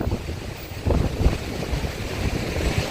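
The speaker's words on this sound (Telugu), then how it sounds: "జల్లు మొత్తం పడుతుంది." Water sprays and gushes from open gates of the Srisailam dam with a full reservoir, a loud, continuous rushing roar buffeted by gusty wind.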